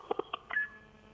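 Telephone keypad tones before a call: four quick dialing beeps in an irregular pattern, then a brief steady tone that fades, faint and alone with no talk.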